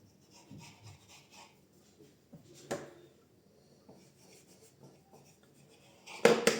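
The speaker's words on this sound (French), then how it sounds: "sur une belle finition bien droite, on peut aussi faire couper les bords" A knife trims the edges of puff pastry dough on a work surface, giving soft, intermittent scraping and rubbing strokes with a sharper knock partway through and a louder scrape at the end.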